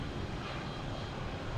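A JetBlue Embraer E190 arriving at Boston Logan from Cleveland gives a steady, fairly loud broadband engine roar that holds evenly through the moment, with no voices over it.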